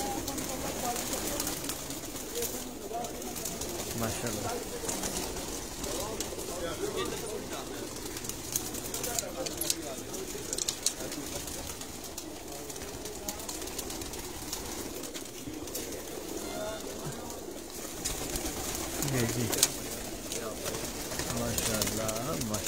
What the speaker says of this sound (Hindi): परवाजी कबूतर है ये।